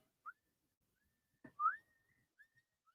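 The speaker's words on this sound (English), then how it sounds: "there's a guy whistling on the stream" A person whistles a few short, sparse notes, one rising whistle louder than the rest, against near silence.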